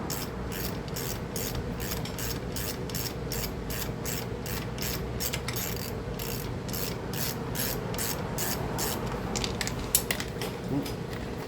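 A ratchet fitted with an 8mm socket turns out carburetor bolts on a Craftsman 2800 pressure washer, giving a steady, close run of rapid pawl clicks that continues for over ten seconds without a break.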